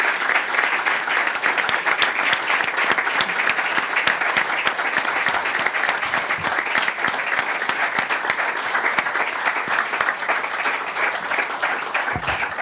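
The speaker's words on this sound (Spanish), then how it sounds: "os pido un aplauso para las 3 personas que hoy nos han regalado su conocimiento y su tiempo" An audience at a seminar on housing access gives the speakers sustained, loud applause, with dense, even clapping that carries on without a break for about twelve seconds.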